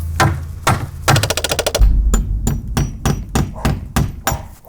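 Nails are struck into wood with a rock used as a hammer: a fast burst of sharp, loud knocks, then about eight heavier, evenly spaced blows ringing close by.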